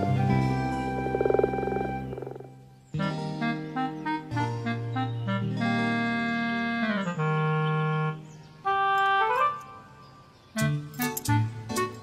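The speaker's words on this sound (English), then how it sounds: "frogs." Frogs croaking in a garden pond in spring spawning season, a series of loud, close calls in uneven bursts, some harmonic and pitched, with short pauses between them.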